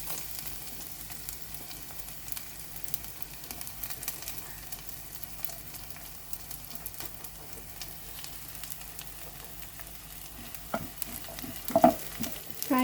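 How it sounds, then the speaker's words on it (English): Garlic frying in olive oil in a pan for fried rice, a steady low sizzle with occasional stirring scrapes and a few louder clatters near the end. "Put olive oil, let's fry our garlic."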